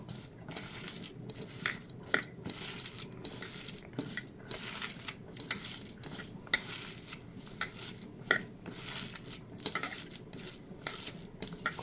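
Onions being mixed by hand or spoon with garlic paste and a ground poppy seed and mustard paste in a bowl, giving soft repeated scraping and clinking of utensil against dish, close and steady with no talk.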